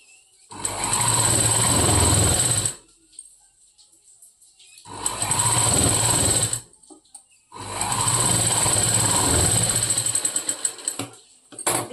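Sewing machine stitching a double-folded blouse fabric with a half-inch margin, running in three long loud bursts with quiet pauses between them.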